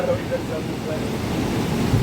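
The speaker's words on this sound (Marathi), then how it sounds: "लाटा बघा, लाटा बघा किती उंच आहे." Waves break and wash ashore at Velneshwar beach in a steady, noisy roar with wind, heard close and continuous.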